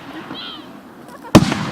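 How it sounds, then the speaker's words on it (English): A firework goes off with a sharp loud bang near the end, following a faint distant whistle and murmur of people outdoors, with crackling after the burst. "Someone really loves fireworks."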